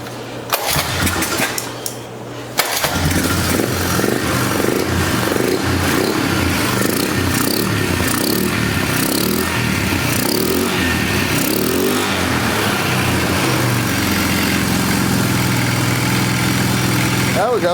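Polaris 325 Magnum four-wheeler in trashed condition cranks with a couple of short pulls, then catches and settles into a loud, steady, slightly high idle that runs close and continuous.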